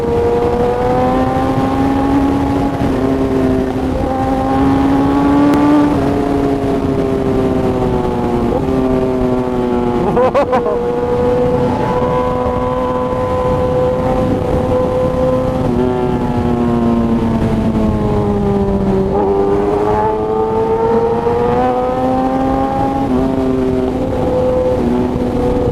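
A 2017 Kawasaki ZX10R sportbike with an SC Project exhaust and quick shifter revs loudly and steadily up close, its pitch climbing and dropping through repeated throttle blips over about 26 seconds, with no talking.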